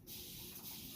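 A spray bottle lets out one faint, close hiss of mist, about a second long, with no other sound.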